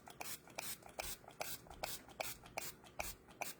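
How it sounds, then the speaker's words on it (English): Setting spray misted onto a face during Halloween zebra mask makeup, heard as a rapid series of short, close hissy pump bursts in a steady rhythm, with no talking. "now let's do some setting spray because we do not want this to travel."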